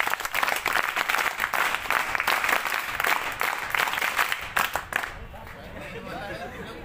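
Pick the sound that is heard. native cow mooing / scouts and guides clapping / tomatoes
scouts and guides clapping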